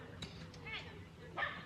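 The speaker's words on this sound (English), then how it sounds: "At the minute, there's dogs" Dogs bark and yip at a campsite courtyard, short sharp barks at a moderate distance, heard faintly under a person talking.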